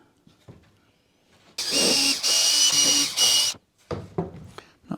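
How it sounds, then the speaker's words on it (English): A power drill whirs loudly in three close bursts, with quieter handling clatter and taps before and after. "So I'm going to drill some holes."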